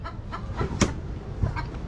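A chicken clucks a few short, scattered times nearby, with one sharper squawk in the middle, over quiet background.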